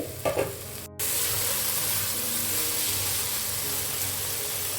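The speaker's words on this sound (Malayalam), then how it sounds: "നന്നായിട്ടൊന്ന് മിക്സ് ചെയ്ത് കൊടുക്കാം" Spicy fish biryani masala with curry leaves being stirred in a hot pan, a brief clink and scrape followed by loud continuous frying sizzle close up, no talking.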